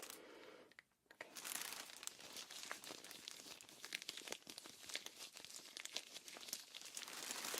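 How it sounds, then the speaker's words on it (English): Gloved fingers rustle close to the ear during an ASMR medical ear exam: steady, soft crinkling and rubbing that runs continuously after a brief pause, faint and intimate, with no voice. "tell me which side you hear my fingers rustling with the gloves"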